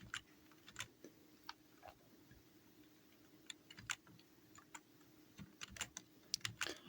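Computer keyboard keys clack during video editing, an irregular run of quick taps and clicks, some in short bursts, faint against a quiet room hiss with no voice.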